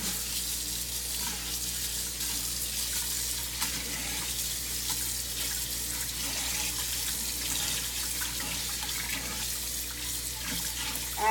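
Lukewarm tap water runs steadily over basmati rice being rinsed in a sink, a constant bright hiss and splash that carries on evenly at moderate volume with no talking.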